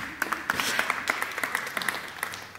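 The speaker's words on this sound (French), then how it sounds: "Oui, on applaudit." An audience applauds at a youth award ceremony for digital literacy, a dense wash of many hands clapping steadily for a few seconds with a voice faintly over it.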